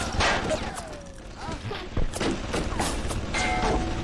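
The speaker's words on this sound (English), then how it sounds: "I got two turrets going hard in the paint on your ass" Turrets fire steadily in the video game Bioshock, a dense, continuous clatter of gunshots and thuds with game effects layered over it, loud and close throughout.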